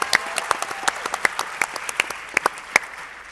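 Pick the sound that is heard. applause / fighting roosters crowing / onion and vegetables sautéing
applause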